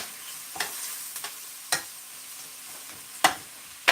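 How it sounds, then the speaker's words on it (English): Mushrooms sautéing in a pan with a steady hiss of frying. A few sharp clicks and scrapes come from a utensil at irregular intervals, with no talk. "I'm going to get my mushroom sauteing."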